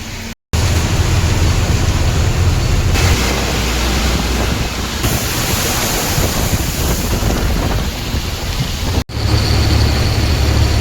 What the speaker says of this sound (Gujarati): અત્યારે જોવો તમે વરસાદ આવે છે